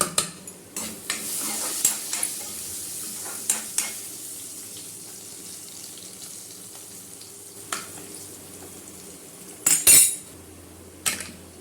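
Hot tempering poured straight into cooking greens (bhaji) in a village kitchen, giving a steady sizzle with scattered clinks and scrapes of a stirring spoon against the pot, a sharper burst of clatter near the end.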